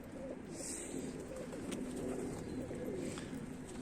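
Arab dolapçı pigeons coo in a coop, a steady close run of soft throaty coos filling the few seconds, with no voices.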